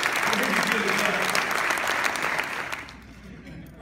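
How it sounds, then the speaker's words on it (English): Audience applause for parents at a recognition ceremony for outstanding high school seniors, a dense, steady wave of clapping from a large crowd that holds strong and then fades away near the end. "For those of us that have children, one more fantastic applause."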